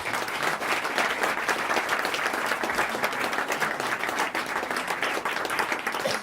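Steady applause from a large theatre audience, dense clapping filling the whole stretch at an even, loud level with no break.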